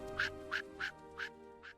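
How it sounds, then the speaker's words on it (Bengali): A duck quacks five times in an even rhythm, close and clear against a quiet background, with no talk. "টুনি খুশিতে প্যাক প্যাক করে ডাক দিল"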